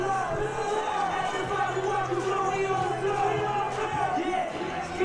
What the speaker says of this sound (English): Nisky crowd, let's hear you as they come by